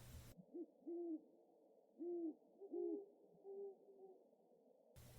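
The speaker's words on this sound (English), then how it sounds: "The owl hoots outside" An owl hoots outdoors, giving about six soft, low hoots in an irregular series against an otherwise silent background.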